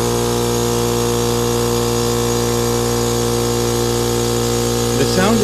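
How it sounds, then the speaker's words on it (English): A Porter Cable air compressor drones loud and steady up close while inflating an ErgoChair ball, with a constant motor hum and rattle and a brief whistling change near the end. "The sound that you are hearing is from the compressor as the air is placed into the ball from the ErgoChair"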